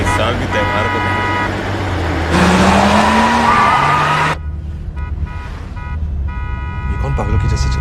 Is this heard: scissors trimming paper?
no